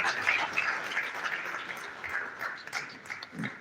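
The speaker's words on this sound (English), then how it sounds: "Please can we once again give Professor Sani Ibrahim another round of applause." Applause from the audience at an annual university colloquium lecture in a faculty of life science, a fairly faint, steady patter of many hands clapping together that holds evenly throughout.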